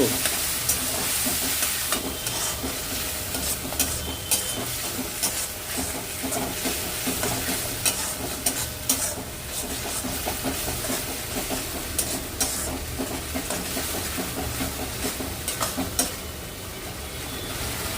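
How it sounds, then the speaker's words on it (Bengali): Tomatoes fry with spices in a pan for a bottle gourd and prawn curry, giving a dense, hissing sizzle that runs throughout, dotted with small crackles and light stirring clicks. "টমেটো দুটো ভেজে নিলাম এর সঙ্গে দিয়ে দিলাম মশলার সঙ্গে"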